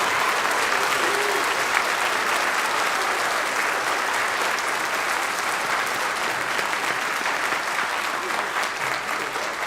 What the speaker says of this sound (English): Please give these young people a round of applause for just an outstanding achievement